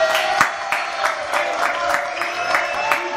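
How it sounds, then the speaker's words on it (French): Audience applause and light cheering in a studio setting, loud and close, with sharp individual claps popping out of the dense clapping at an uneven rhythm. "Applaudissements s'il vous plaît."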